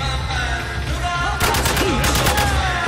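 Rapid bursts of automatic gunfire in the Spec Ops: The Line shooter game, a dense crackling volley starting midway over a steady rumbling battle backdrop.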